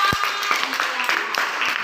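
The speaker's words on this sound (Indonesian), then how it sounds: "Coba kasih tepuk tangan buat kelompok A." Third-grade elementary pupils clap for a classmate group in a classroom, a steady patter of quick hand claps heard together with voices in the room.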